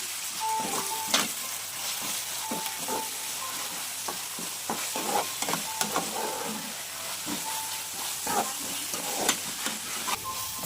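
Ginger garlic paste sizzling steadily in hot oil for a home-style fish curry, a continuous close hiss broken by repeated scraping stirs and occasional louder crackles.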